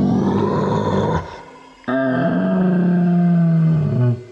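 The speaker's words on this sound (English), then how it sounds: "At once they heard a deafening roar." A loud, sustained dragon roar as a story sound effect set in a cave, two long growling bellows in succession, the second deeper and drawn out, dominating the scene with no talk.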